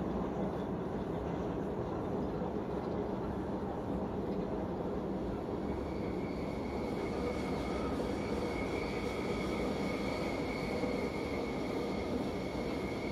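A historic S-Bahn electric commuter train brakes in the Train Simulator Classic game, a steady rumbling roll with faint wheel squeal and rising tonal whine, continuous and moderately quiet.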